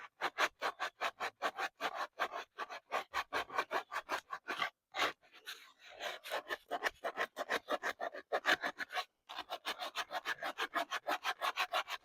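A gourd bowl being sanded by hand, with steady rapid rasping strokes repeating close up through the whole stretch and a couple of brief pauses.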